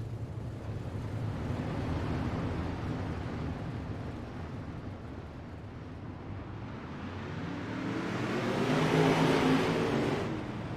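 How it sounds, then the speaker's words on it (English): Modified race cars at Lanier raceway, a far-off engine roar that dips and then swells louder as the pack passes during a heat race, with no talking. "Green flag is in the air here for modified heat racing action."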